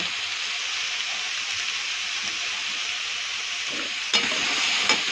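Spices with turmeric and salt being stirred in a hot pan give a steady, even sizzle throughout, with a couple of brief scraping stirs near the end; no talking.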